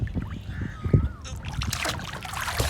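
Water splashes close by as someone swims beside a boat's propeller, with irregular sloshing and muffled knocks that grow busier midway.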